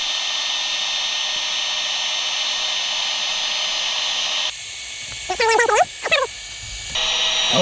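An Aerogogo Giga Pump 4.0 electric pump inflating a camp mattress runs as a loud, steady motor drone that shifts in tone midway, with brief whining pitch bends before settling again.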